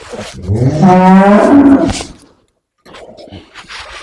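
A cow gives one long, loud, rising moo lasting about two seconds, followed by a pause and quieter background noise.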